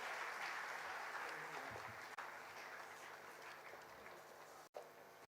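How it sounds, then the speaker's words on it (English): An audience at a school's 35th Founder's Day ceremony claps in sustained, dense applause that fills the hall steadily before cutting off abruptly near the end. "So I'm happy that they are here to be acknowledged and applauded by all of you"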